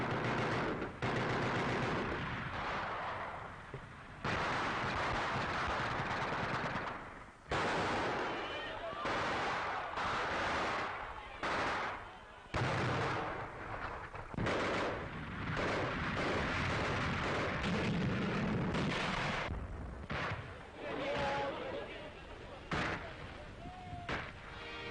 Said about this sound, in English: A tank and machine gun skirmish was waged at the foot of the Eiffel Tower.